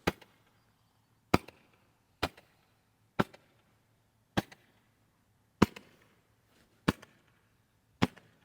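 Fireworks are shot off near a horse, eight sharp isolated bangs spaced about a second apart, each a crisp loud crack followed by faint trailing crackle in a quiet outdoor setting.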